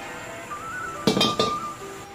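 A hot, smoking wok is tipped while oil is swirled in for Chongqing-style crucian carp, giving a few sharp metallic clinks in a quick cluster against a faint kitchen hum.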